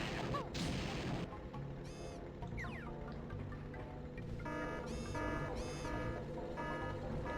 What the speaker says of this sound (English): Can't believe the alarm is going off right now.